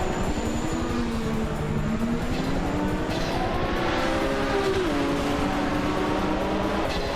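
A 1981 Lancia Monte Carlo Turbo racing car in a video game race, its engine droning loudly and continuously with pitch rising and falling as it shifts and accelerates, no talk over it.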